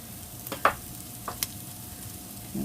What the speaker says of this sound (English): we're going to go ahead and add our garlic, and we're just going to saute that a couple of minutes